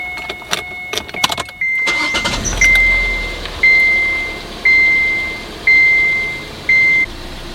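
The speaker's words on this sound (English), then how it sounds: "Now we're going to start the car to make sure everything was done right." A 2014 Kia Forte, just fitted with new spark plugs, cranks and fires up, then settles into a steady idle while a warning chime beeps at an even, regular rhythm, close and loud.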